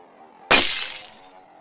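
A small glass orb about the size of a jawbreaker shatters on a floor as a sound effect: one sudden, loud crash of breaking glass followed by a brief tinkling tail, after near silence.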